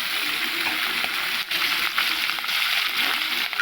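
Aar fish frying in a small amount of oil in a kadai gives off a steady, dense, close bubbling sizzle that never stops, broken only by faint popping ticks.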